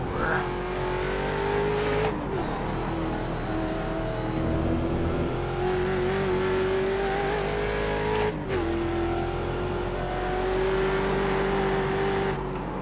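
A Mustang race car in the iRacing game at Road Atlanta roars continuously up close, engine pitch climbing steadily with brief drops at gear shifts, under faint speech.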